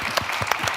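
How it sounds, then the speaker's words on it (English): An audience at a climate summit panel in Romania claps in a brief, close burst of applause, with individual claps audible in a dense, steady patter. "Let's give a big round of applause with your hands or feet"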